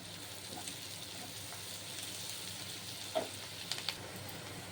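Onions with a little rock salt sautéing in a pan for a tomato gravy, a soft continuous sizzle with occasional stirring scrapes and taps, close but quiet.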